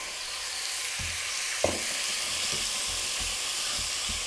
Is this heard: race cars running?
no